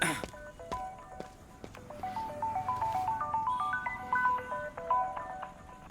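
A phone rings with an incoming call, a melodic electronic ringtone repeating its rising tune for several seconds at moderate volume, with faint background noise beneath.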